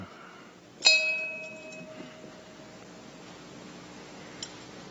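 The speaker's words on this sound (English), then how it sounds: "And for our sister ringing the bell" A single bell struck once at a Workers Day of Mourning memorial roll call rings out clearly near the start and decays slowly over several seconds against a quiet room, with a faint tap later.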